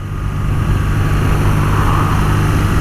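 A 2018 BMW R nineT Pure with the standard exhaust and air-cooled boxer engine idles close by, giving a steady, low, rumbling burble that holds evenly throughout with no talk.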